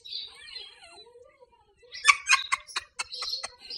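A pet bird gives a quick run of sharp, bright chirps close by, just after a faint voice.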